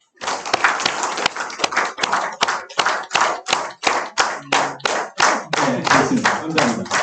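An audience claps together in a steady rhythm, dense hand claps in a lecture hall settling into a shared beat, loud and close with scattered voices underneath.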